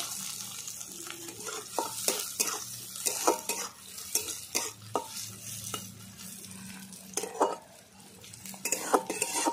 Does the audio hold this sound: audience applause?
no